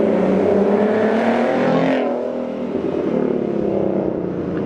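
A Mustang 3.7L with BBK shorty headers revs loudly up close, its exhaust rising to a raspy peak before dropping back to a steady, throaty drone.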